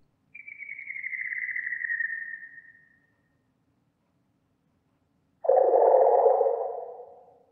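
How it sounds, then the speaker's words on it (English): A bird call in the video game Kentucky Route Zero: a long, clean, slowly falling whistle-like tone, then after a few seconds of silence a second, lower, breathier drawn-out cry that fades away, heard alone. "That was a bird."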